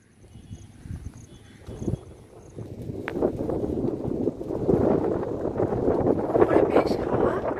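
Strong wind blows across a hilltop near a temple, buffeting the microphone with rumbling gusts that start soft and build into a loud, steady roar, while a voice talks briefly during the quieter opening.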